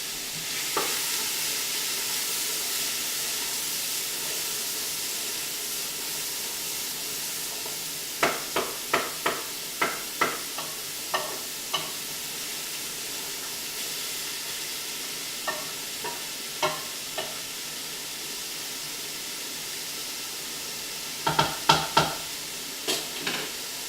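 Peas and vegetables for chicken miso soup sizzle steadily in a pot, with a constant soft frying hiss broken by scattered clicks and scrapes of a wooden spoon stirring.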